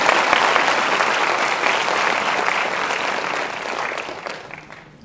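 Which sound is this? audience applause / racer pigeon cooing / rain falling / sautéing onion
audience applause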